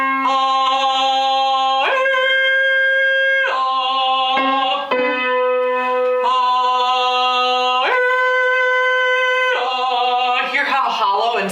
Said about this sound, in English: Sort of hooting that sound is, I want it nice and open